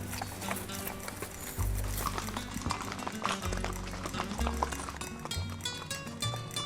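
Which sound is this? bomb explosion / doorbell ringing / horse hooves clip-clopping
horse hooves clip-clopping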